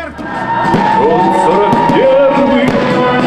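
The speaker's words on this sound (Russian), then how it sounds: "праздничный концерт под названием «У победы лица молодые» завершился грандиозным салютом под музыку военных лет" A festive fireworks salute in Samara crowns a Victory Day concert, set to wartime music. Loud, continuous bursts and crackles fill the sky, with whistling rockets rising and a crowd cheering beneath.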